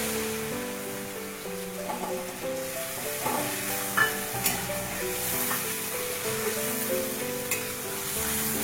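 Spice paste with grated tomato frying in a pan for a vegetarian gathi kochu (taro) curry, a steady close sizzle with occasional stirring scrapes and no talk.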